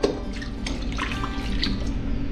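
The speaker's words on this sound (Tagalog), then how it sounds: "Buhos natin dito." Liquid is poured into a pan while milkfish is being cooked, a continuous close splashing trickle with small drips lasting a couple of seconds, alone without speech.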